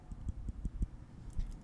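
Nail clipper trimming fingernails up close, a series of about six crisp, quiet clicks in an uneven rhythm, then a couple of softer snips.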